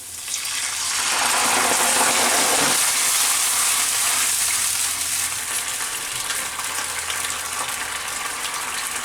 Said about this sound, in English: Let onion and garlic get brown. Just fry them for a couple of minutes.